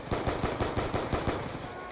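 Rapid automatic gunfire from a Black Ops 2 Zombies match, loud and close, in a steady rattling burst of about a dozen shots over two seconds with no talk.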